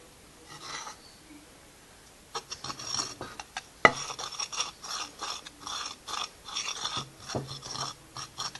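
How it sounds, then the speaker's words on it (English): Charcoal is stirred into an herb mixture for combustible incense, with a scraping, gritty rasp of a spoon in a bowl in repeated short strokes, close and fairly quiet. "a little bit of this mixture here, the charcoal, into my herbs and stir it as I go"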